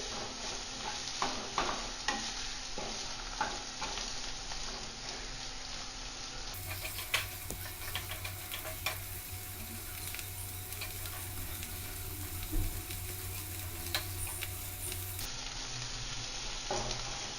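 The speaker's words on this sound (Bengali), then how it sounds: "আদাটা একটু ভালো করে নেড়ে নেবো যাতে কাঁচা গন্ধটা চলে যায়" Ginger paste being stirred and fried with carrots and beans in a pan, a continuous low sizzle with frequent spatula scrapes and taps, close but quiet and without talk.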